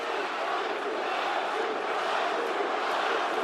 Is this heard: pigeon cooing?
no